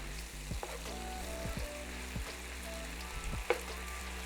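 Thin strips of steak for a Korean steak bowl fry in a pan, a quiet, even sizzle with a few light clicks and taps, left undisturbed.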